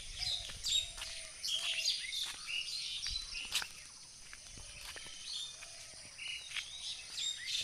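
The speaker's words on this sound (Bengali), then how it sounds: "এই যে পাখি ডাকি" Several birds chirp and call at dawn in short, repeated phrases, some close and some farther off, over a faint background of insects.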